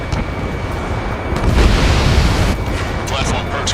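A missile explosion in the jet combat game Ace Combat 7, heard as a loud sustained roar with a heavier boom swelling midway, dense and close, with radio voices speaking over the blast.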